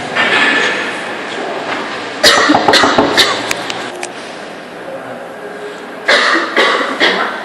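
Several sharp coughs burst out in a short cluster, then one more cough a few seconds later, over a busy background hum of a crowded space.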